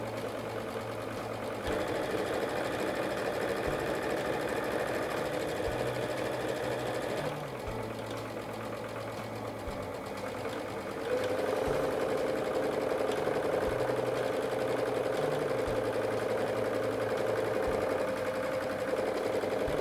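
A sewing machine runs steadily while stitching half square triangle quilt blocks, its rapid mechanical whir pausing briefly and restarting several times at close range.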